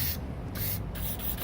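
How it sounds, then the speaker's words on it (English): Aerosol lubricant hisses in a steady, close spray onto a seized padlock shackle on the double doors of an old building. "Give it a spray."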